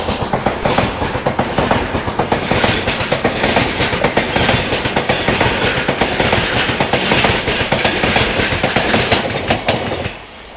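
An express train on the Narasapur–Tirupati route runs along the rails with a loud, steady clickety-clack of wheels over rail joints, close and continuous for about ten seconds before easing off at the end.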